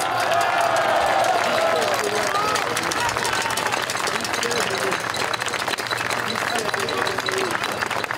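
Crowd applause at an outdoor political rally in Paris against COVID restrictions, a steady dense wash of clapping and cheering that holds loud and unbroken throughout, with no clear speech over it.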